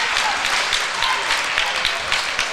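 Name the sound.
Puxico crowd clapping for their basketball team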